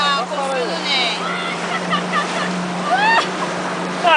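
A motorboat being driven on open water near an island hums with a steady, close engine drone under wind and water noise, while people talk over it.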